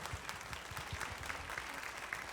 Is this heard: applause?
yes